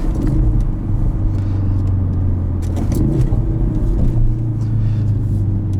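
A 2016 Ford Focus RS with a manual gearbox, its engine droning and rumbling steadily from inside the cabin with small rises in revs, loud and continuous without talk.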